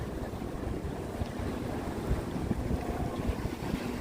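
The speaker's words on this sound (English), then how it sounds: "oh my, it's so windy, it's so windy. It's blowing me and the gimbal." Wind gusting along the Brooklyn Bridge Park waterfront, a steady moderate rush and rumble of air against the microphone with faint water texture, no voices.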